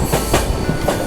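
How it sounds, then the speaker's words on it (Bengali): The Kanchankanya Express rolls through Sevok station in the hills, a loud, close rumble of wheels on rails with rhythmic clacking heard from on board. "আমাদের ট্রেন এখন ক্রস করবে সেবক স্টেশন।"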